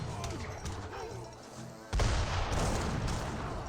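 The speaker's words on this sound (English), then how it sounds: "Redcoats still firing away." Musket volleys from Redcoat infantry in Age of Empires 3, crackling scattered shots that swell into a dense, louder fusillade partway through, with a commentator's voice over the battle.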